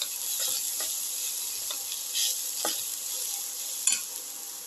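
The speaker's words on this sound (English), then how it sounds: "salt and mix thoroughly." Salt is stirred into a green pepper, coconut and tamarind dip in a pan, producing a soft continuous sizzle with light scraping strokes and a few faint clicks of the spoon.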